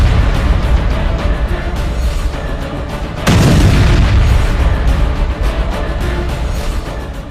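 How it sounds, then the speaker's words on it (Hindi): A loud booming missile strike explosion bursts out midway over a constant low rumble, followed by a lingering roar that slowly fades. "हूती इजराइल पर सीधे मिसाइलों से हमला कर रहे हैं"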